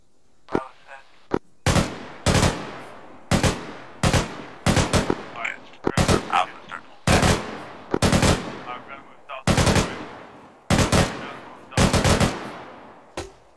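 Gunfire in ArmA 3 roars in loud repeated bursts, about a dozen sharp volleys spaced every second or so, each ringing out with a decaying tail, and brief radio-style chatter sits between them.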